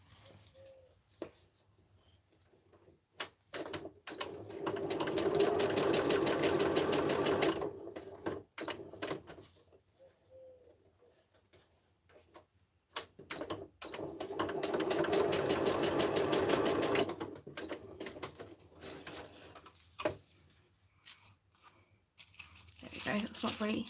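Sewing machine stitching a Schitt's Creek craft kit closed, running in two long steady whirring bursts of several seconds each, separated by quieter handling noises and brief clicks.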